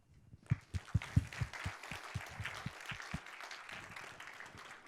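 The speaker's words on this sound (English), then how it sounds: "Please give a big round of applause for Christian Barra" Audience applause for a speaker at the code::dive 2019 software conference, starting with a few loud, distinct claps that quickly blend into a steady, moderately loud wash of clapping from a large hall.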